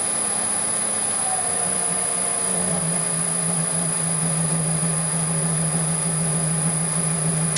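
A mini lathe running at a slower spindle speed, giving a steady close mechanical hum with a constant high whine and a low tone that settles partway through as the speed changes.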